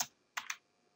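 Computer keyboard typing: three quick clicking keystrokes, one isolated and then a close pair, crisp and near, with silence between them.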